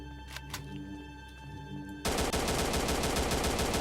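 Video game gunfire: a quieter stretch with faint ambient music tones gives way to a sudden loud burst of rapid automatic shots that continues steadily to the end.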